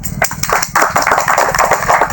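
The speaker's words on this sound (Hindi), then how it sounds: "ताली बजा" An audience claps at a live religious darbar gathering, a dense run of quick, close claps lasting a couple of seconds, with little talk over it.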